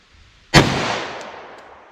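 A single loud pistol gunshot firing 10mm or .44 Magnum hunting soft point ammunition, a sharp close crack followed by a long reverberant decay, with no other sounds.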